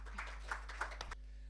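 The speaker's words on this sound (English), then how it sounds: "So please give him a big round of applause." A small seminar audience claps for a speaker on emerging markets, a handful of scattered, fairly faint claps over a low hum before stopping abruptly.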